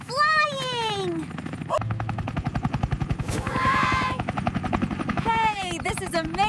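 A cartoon cardboard helicopter flies with a fast, loud rotor chop that pulses like rapid gunfire, while a voice and cartoon chatter and sliding effects play over it.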